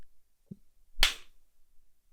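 A single sharp snap-like hit, bright and broadband, lands near the one-second mark after a faint soft tap, with near silence around it in a quiet room.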